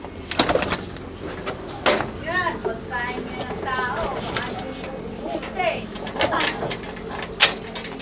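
Young pigeons in a loft coo repeatedly in soft rolling phrases, close by, with brief knocks and shuffles between calls and a person talking over them.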